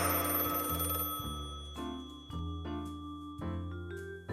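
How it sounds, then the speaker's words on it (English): A telephone bell ringing in a noir detective scene, its tones repeating in steady bursts that sound loud and close, with no voices over it. "a dreadful ringing pierced my ears. Of course it was my phone"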